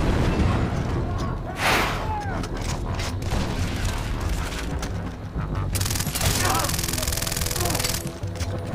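Rapid gunfire in Far Cry 3 rattles almost nonstop, loud and dense, with booming shots layered over game ambience and a voice talking through it.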